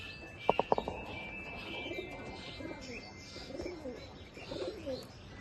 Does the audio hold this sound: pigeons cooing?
yes